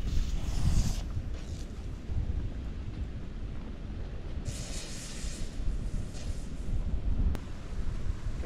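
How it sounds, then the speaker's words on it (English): Strong wind blowing across an outdoor backyard golf course, a steady loud roar buffeting the microphone with gusty rumble and brief hissy surges, no speech. "It's pretty windy."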